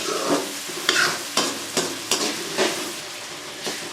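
Tomatoes and onions fry in a pan with a steady sizzle, broken every half second or so by scraping stir strokes of a spoon against the metal, close and fairly loud with no talking.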